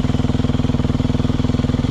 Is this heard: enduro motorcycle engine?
yes